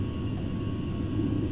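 A Boeing 737 jet takes off in a flight simulator game, giving a steady, loud, low engine roar that holds even across the brief moment without any speech.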